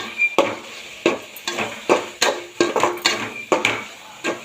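Chicken gravy with chicken masala and chili powder sautéed in a pan, a spatula scraping and knocking in a quick uneven rhythm of about a dozen strokes over a light sizzle, up close and with no voices.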